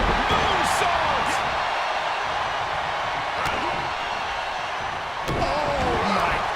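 Heavy slams and thuds of pro wrestlers hitting the ring mat during a tornado tag match, loud and continuous over a roaring crowd and excited commentary, with one sharp impact standing out near the end.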